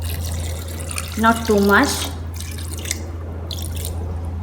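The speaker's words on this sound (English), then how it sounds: "So now I'm going to add in little bit of water" Water is poured into mutton biryani in a rice cooker, a brief splashing pour heard close by under a low steady hum, with a person speaking briefly during it.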